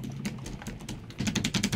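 The HyDrive pedal drive on a Pelican kayak makes a quick run of light, rapid clicks and taps, close and fairly soft, lasting under two seconds.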